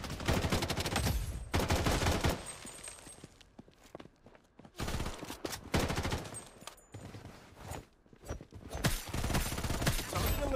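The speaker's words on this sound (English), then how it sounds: "taking fire!" Gunfire in the shooter BloodStrike comes in dense rapid bursts with short quiet gaps between them, mixed with running footsteps during a solo tournament match.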